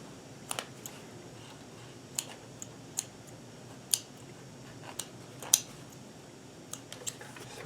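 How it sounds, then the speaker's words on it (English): Scissors snip loose threads on a freshly sewn shirt-cuff buttonhole, giving a scattering of sharp, quiet clicks spread irregularly over a soft background hiss. "snip that"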